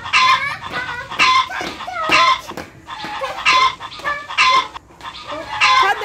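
A voice imitates a chicken, clucking and cackling in repeated loud bursts, close up, while visiting a farm.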